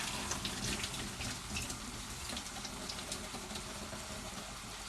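Water from a pot of cooked noodles pours out steadily into a sink, a continuous close splashing rush while making a chicken and plum stir-fry.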